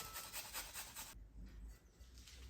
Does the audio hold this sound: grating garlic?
yes